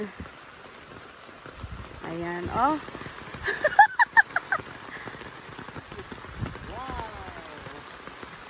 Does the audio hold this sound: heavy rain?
yes